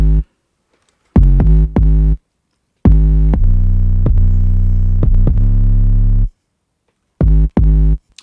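Heavy 808 bass in a rap beat, processed with compression, sidechain and EQ, hitting in booming, sustained bursts separated by silent gaps, loud and close and bright at the top.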